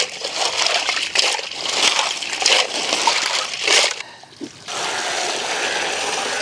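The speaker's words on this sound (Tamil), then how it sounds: "சுத்தம் பண்ணி வச்ச நண்டை நல்லா கழுவி எடுத்துக்குவோம்" Crab being rinsed by hand in water, part of preparing a village-style crab masala gravy; steady splashing and sloshing close by, broken by a short pause before the washing resumes, with no talking.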